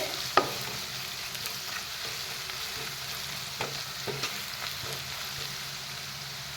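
Ground coriander and cumin fry in a pan for chicken curry, giving a gentle, steady sizzle with a sharp tap at the start and a few light scraping stirs, with no talking.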